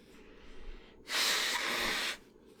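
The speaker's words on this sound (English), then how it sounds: "please blow your nose before we cut back" A single loud, breathy blast of air through the nose lasting about a second, following quiet background and then fading back to near silence.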